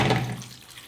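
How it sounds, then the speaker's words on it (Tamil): Water poured into a cooking pot over cassava pieces, a short gushing splash that is loudest at the start and tapers off within a second, with no talking. "மெரவள்ளி கிழங்குக்கு மேலால் நிற்கிற மாதிரிக்கு தண்ணி விட்டுக்கொள்ளுவோம்"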